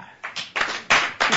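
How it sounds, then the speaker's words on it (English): Studio audience claps and cheers to welcome comedian Tommy Cooper, arriving in three or four loud swelling bursts with brief gaps between them. "would you give a round of applause and welcome to the vault, Mr. Tommy Cooper"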